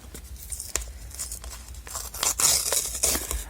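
A paper blind-bag packet crinkles and tears in several short, close rips, with crisp rustling between them and no voices.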